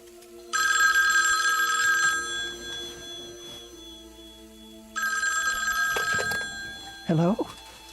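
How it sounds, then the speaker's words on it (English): An old telephone bell rings in two long, loud bursts separated by a pause, with a voice speaking briefly near the end. "Was that the phone?"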